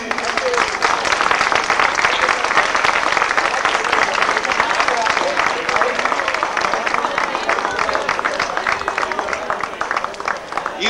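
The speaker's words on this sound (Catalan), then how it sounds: "Un fort aplaudiment." Loud, steady applause from a festival crowd at a Festes Majors celebration in El Ballestar after a traditional Ball del Farolet dance, dense clapping sustained for about eleven seconds with some voices mixed in.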